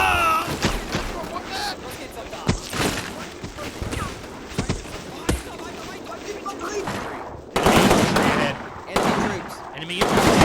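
Browning automatic rifle fire in the World War II video game Combat Mission: Battle for Normandy, sharp bursts and single shots with distant booms, irregular and varying in loudness, under a narrator's voice.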